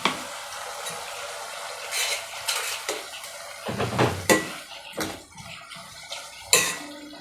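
Ginger garlic paste goes into hot oil in a pan, with sizzling, metallic clinks of a spoon against the pan and scraping stirs coming in uneven bursts.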